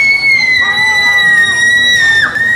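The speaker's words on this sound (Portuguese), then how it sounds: "gritam no monitor de grito" Children scream loudly and shrilly into a scream meter at Disneyland Paris, a sustained, piercing, high-pitched wail close by that wavers and rises in pitch near the end.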